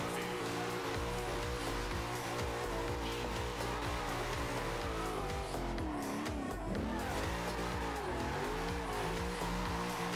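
Sustained tire squeal from a drifting car in Forza Horizon 2, a loud continuous engine roar under wavering screeches that rise and bend mid-way, steady throughout with no voices.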